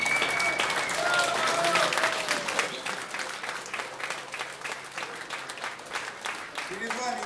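Audience applause fills a concert hall after a jazz set, a dense steady wash of many hands clapping that tapers slightly toward the end, with faint voices underneath.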